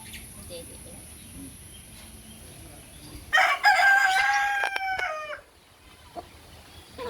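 A large rooster crows once nearby, a loud drawn-out call lasting about two seconds over quiet outdoor background.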